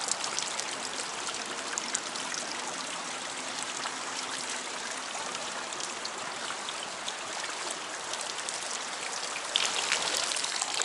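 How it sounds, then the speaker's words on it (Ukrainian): Hot mineral spring water at 70 degrees flowing steadily in Wiesbaden, a continuous close splashing and trickling rush with no pauses. "Це джерело Огути."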